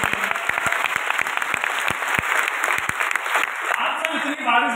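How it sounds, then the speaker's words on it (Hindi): Audience claps and cheers at a direct-selling motivational event, dense and lively with sharp individual claps standing out, while a voice talks over the applause near the end. "एक बार जोरदार तालियां"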